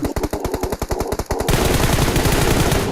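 Automatic weapon fire in the mobile game PUBG Mobile, a rapid, loud burst of evenly spaced shots followed by a denser, continuous stretch of fire, close and without talk.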